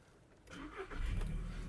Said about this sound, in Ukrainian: Автомобіль заводиться з півтику, не димить, не труїть